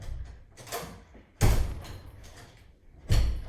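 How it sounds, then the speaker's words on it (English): A door is pushed shut in a room where a clothes dryer runs in the background. Two dull thuds land a couple of seconds apart amid softer shuffling and handling noises. "let me close this door"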